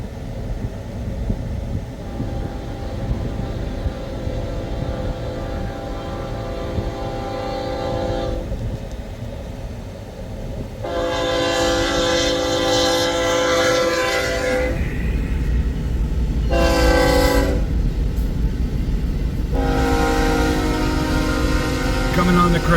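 Westbound freight train on the Creston subdivision in Missouri rumbles past close by with steady wheel and car noise, while its loud horn sounds in several long blasts over the passing cars.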